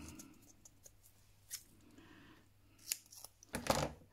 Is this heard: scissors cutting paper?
yes